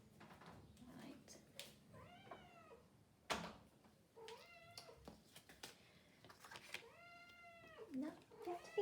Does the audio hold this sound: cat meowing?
yes